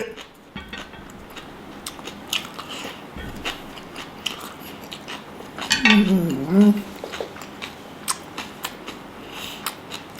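Someone eats jajangmyeon with a fried egg, with soft chewing, slurps and clinks of cutlery against a dish close by, and a brief louder bite or scrape in the middle, over faint background noise.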